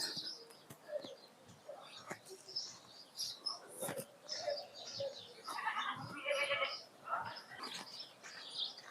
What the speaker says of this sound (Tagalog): ang daming alagang kambing. Alagang kambing yan.